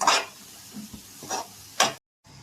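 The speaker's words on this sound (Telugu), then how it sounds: "ఉడికిచ్చి పెట్టుకున్న చేప గుడ్లని ఇలా వేసుకోవాలి మొత్తం అంతా బాగా కలుపుకోవాలి" Boiled fish roe being stirred into a fish curry in a pan, a few soft scraping stirs with a light sizzle, close up and fairly quiet, ending in a brief cut of silence.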